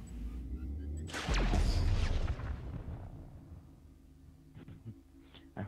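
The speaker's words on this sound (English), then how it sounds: "I heard that explosion." An explosion in the video game GTA 5 bursts out as a loud booming blast with a whooshing rush, then rumbles and fades over a few seconds, with faint game sounds before and after.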